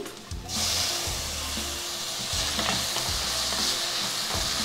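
Chopped tomato, garlic and green chillies sautéing in a pan for a banana stem kootu, a constant sizzle broken by repeated scraping stirs with a low knocking rhythm, close and clear with no talking.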